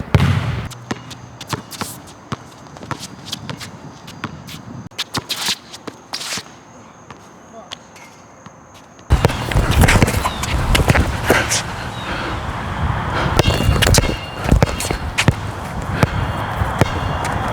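A basketball is dribbled in repeated sharp bounces, sparse and crisp at first, then quicker and denser against louder surrounding noise.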